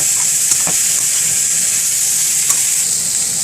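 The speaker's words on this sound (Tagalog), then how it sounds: "Haluin po natin ang haluin para maihalo po yung lasa ko ng asin at saka ng paminta ko sa gulay." Vegetables seasoned with salt and pepper sizzle steadily in a pan for a coconut-milk salmon head dish, a loud continuous frying hiss with a few faint clicks of a stirring utensil.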